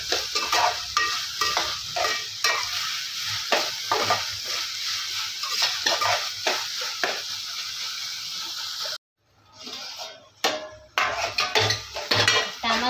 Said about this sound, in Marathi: तेही आपण खूप परतून घेणार आहोत